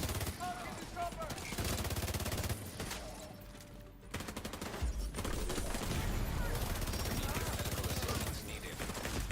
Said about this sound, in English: You're shooting me like crazy up there.